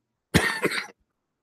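A single man coughing during a podcast, one harsh close burst lasting about half a second, alone against silence.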